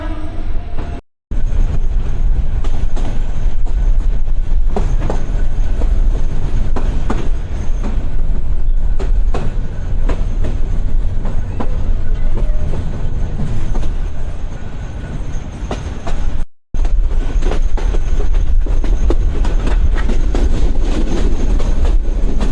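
A passenger train pulling out of Rangpur station rolls along with loud, continuous rumble and rhythmic clickety-clack of wheels on rails, heard from aboard, with two brief dropouts.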